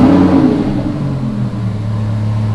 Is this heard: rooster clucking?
no